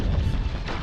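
An incendiary weapon exploding in the mech game Waifu Mechs, a brief dense low boom with a rumbling roar, loud and close.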